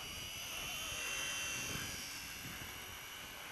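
A small WLToys V911S RC helicopter hovers close by, its rotor and electric motor making a steady high-pitched whine and whirr that rises slightly in the middle, with no voices.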